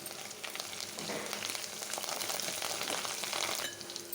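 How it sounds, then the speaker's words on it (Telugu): Thinly sliced onions fry in a pan with ginger paste and curry leaves, a dense, crackling sizzle that swells a little in the middle, close and fairly quiet. "సన్నగా తరిగిన ఉల్లిపాయ ముక్కలు అన్నీ వేసి బాగా వేగనివ్వాలి"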